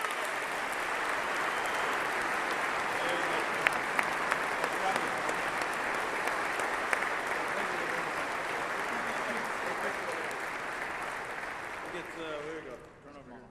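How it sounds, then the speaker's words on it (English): A large audience applauds at length in a hall, a dense, sustained wash of clapping that holds steady before thinning and fading out near the end. "Give him one more big round of applause"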